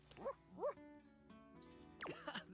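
A dog in the video game Date Everything gives short high whimpers and whines, two quick rising cries followed by a longer faint whine and a final louder yelp-like whimper, soft and close over a quiet background.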